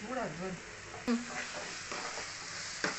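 Ingredients sautéing in a pan for prawn gravy, heard as a soft sizzle with scraping stirs and a couple of clinks, and a faint voice murmuring in the background.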